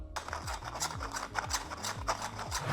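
Close, quiet rhythmic grinding and clicking of the plastic gears of a 3D-printed geared cube as it is turned, repeating in short ratcheting strokes.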